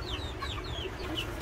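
Young backyard chickens, a rooster among hens, give a run of close, repeated clucks and short squawks, steady and alone over a low background hum.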